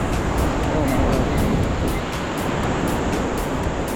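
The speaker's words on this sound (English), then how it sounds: "Oh, it's very windy." Strong wind roars steadily and loudly across the microphone on the Manaslu Circuit mountain trail, a continuous broadband rush with gusting texture and no pauses.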